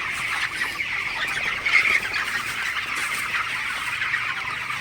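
A large flock of 23-day-old broiler chickens in a broiler farm shed clucks and murmurs constantly, a dense, steady chorus of overlapping calls filling an enclosed space.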